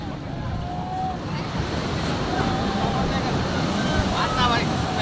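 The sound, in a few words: sea waves on the beach at Cox's Bazar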